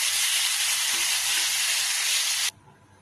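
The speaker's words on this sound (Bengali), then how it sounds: "পেঁয়াজগুলো বাদামি করা হয়ে গেছে, এবার এই যে সিদ্ধ করা শাকগুলো দিয়ে দিলাম। ভালোভাবে মিশিয়ে নেড়ে ছেড়ে পেঁয়াজটা শুকিয়ে শাক করে নেব।" Boiled Malabar spinach greens hitting browned onions in a hot pan, a loud steady hissing sizzle that cuts off abruptly to near quiet.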